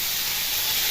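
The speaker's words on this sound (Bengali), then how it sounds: "কালো জিরে কাঁচা লঙ্কা ফোড়ন দিয়ে আর অল্প মশলা দিয়ে এইগুলোকে নেড়ে নেব আগে" Nigella seeds and green chilies temper in hot oil for a fish curry, giving a steady, close, broadband hiss of sizzling with no distinct pops.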